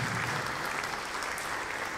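Audience applause for a theatre director at a gala opera concert in the small Teatro di Villa Torlonia in Rome, a steady, dense clapping sustained evenly throughout.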